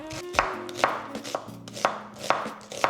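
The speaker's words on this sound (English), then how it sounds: "Now I'm just gonna chop up a small onion." A kitchen knife chopping a small onion on a cutting board, with steady, fairly loud, close strokes falling in an even rhythm.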